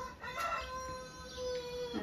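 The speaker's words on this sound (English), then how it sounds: "There's the old cockerel having a" A rooster crows once at moderate distance, a drawn-out call over a quiet outdoor background.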